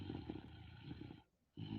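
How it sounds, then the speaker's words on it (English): A person snores while asleep, a low rumbling rasp that swells and fades in a breath cycle with a short pause, fairly faint and close, with no talking. "somebody's snoring"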